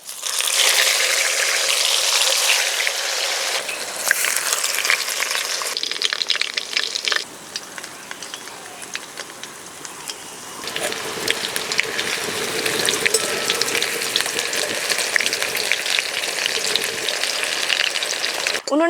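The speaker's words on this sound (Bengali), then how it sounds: "মাছ ভাজার তেলেই কুমড়ো পাতার বড়া ভেজে নেব।" Pumpkin leaf fritters fry in the oil left from frying hilsa fish, giving a loud, continuous bubbling sizzle close by that swells and eases in waves, with stirring noises and no talk.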